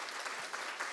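Church congregation applauding to welcome a guest speaker at a Sunday service, a faint, brief burst of dense clapping heard from a distance.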